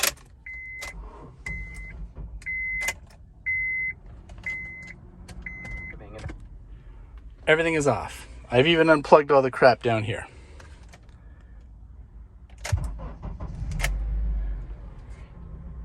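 A Honda CR-V with electrical issues failing to start: a run of repeated chime tones and clicks, then someone talking, and a brief low rumble near the end.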